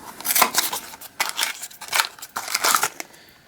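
Thick plastic bag packaging around a Matchbox toy being handled, with repeated close, crisp crinkling and rustling bursts separated by brief pauses.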